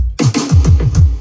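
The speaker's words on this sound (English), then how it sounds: "I took the snare, reverbed it, printed it out, duplicated it, reversed it," A quick burst of drum hits with a smeared, swelling wash of a reversed snare reverb leading into the snare, loud and close.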